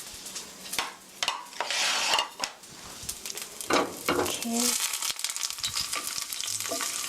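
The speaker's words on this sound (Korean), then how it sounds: "마늘 넣어서 기름에 향을 내주세요." Sliced garlic fries in hot oil in a pan, sizzling close up with bursts of crackle, while a utensil scrapes and clinks against the pan.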